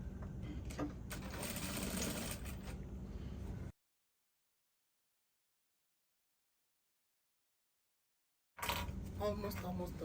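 A sewing machine stitches a dress seam with a steady motor whir and needle chatter, stopping for several seconds of silence before starting again, with a voice speaking over parts of it.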